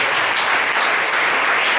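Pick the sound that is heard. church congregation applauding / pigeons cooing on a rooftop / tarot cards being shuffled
church congregation applauding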